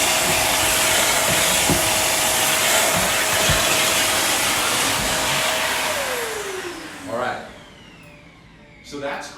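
A loud vacuum cleaner roars steadily, sucking debris from a gap, then its motor winds down and cuts off, followed by a couple of brief clatters.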